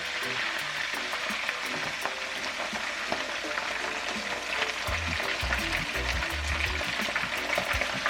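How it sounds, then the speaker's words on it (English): Fish frying in very hot oil, a dense, continuous sizzle with crackling spits and pops scattered throughout, close and fairly loud. "Notice the sound. It tells us that the oil was really hot"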